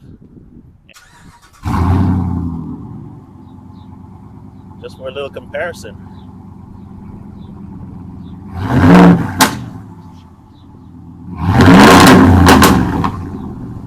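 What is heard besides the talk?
car engine starting and revving through exhaust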